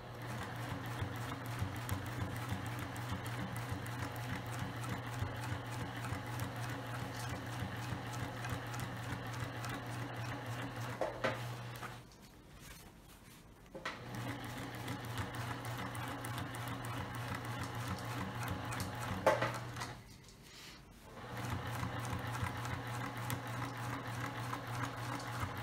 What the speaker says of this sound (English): at the sewing machine, and we are going to top stitch